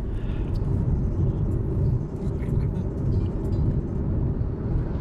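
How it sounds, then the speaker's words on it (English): Road traffic of trucks and cars rolls along a highway near Kolomna in Russia, a steady, dense low rumble of engines and tyres that continues without a break. "Look at the traffic. Miles and miles of trucks and cars."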